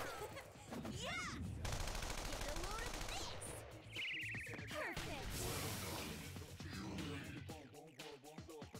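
Gunfire from the video game Persona 5 Royal, loud rapid bursts and crashes layered over game music and effects, with voices talking through much of it.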